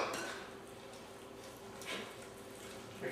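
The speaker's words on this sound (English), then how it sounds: "I'll just take a regular spoon, mix this up" A regular spoon stirs a turkey burger mixture with breadcrumbs and egg whites in a bowl, a soft continuous wet scraping and squishing with faint clinks, close and quiet.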